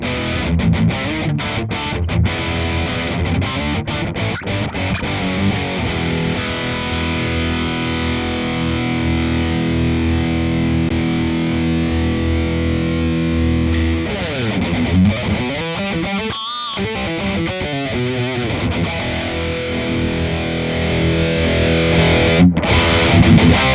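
Distorted electric guitar through an amp modeler plays continuously with heavy amp-style crunch, sustained chords and some single-note runs, loud and close throughout.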